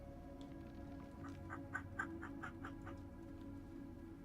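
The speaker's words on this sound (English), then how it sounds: "Crow, why are you making noises?" A crow calls in the video game Spirit of the North 2, a short run of about six or seven quick, evenly spaced caws in the middle of the clip, moderately loud over a steady ambient game background with no talking.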